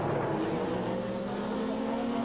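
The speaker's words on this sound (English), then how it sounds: "and you can hear the tyre problem." In-car sound from a 1989 British Touring Car Championship racing touring car with a tyre problem: a steady, loud engine drone with harmonic tones held throughout, no clear speech.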